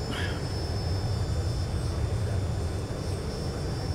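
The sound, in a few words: airliner jet engines in flight simulator game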